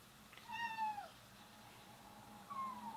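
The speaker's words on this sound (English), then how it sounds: "My cat is meowing." A pet cat meows indoors, two clear drawn-out calls with falling pitch, one early and a shorter one near the end, over a low steady hum.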